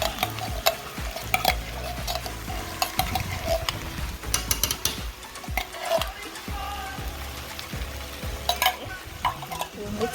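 Chicken with canned mushrooms and cream of mushroom is stirred in a hot electric skillet: steady sizzling and frying under repeated scraping and clinking strokes of the utensil, close and fairly loud.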